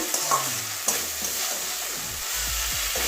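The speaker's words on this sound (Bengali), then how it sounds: "মাছটা পরে দেবো আগে ডিমটা কষিয়ে নেবো একটু" Fish roe is sautéed in a pan for a Bengali fish-egg curry, giving a continuous close sizzle with clattering spatula stirs and scrapes that grow more rhythmic toward the end, and no talking.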